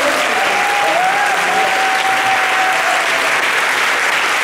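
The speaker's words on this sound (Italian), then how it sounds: "un grandissimo applauso." Loud sustained applause from a festival audience at the opening of the Mix Milano festival, a dense, even roar of many clapping hands with no break, a faint sustained tone running beneath part of it.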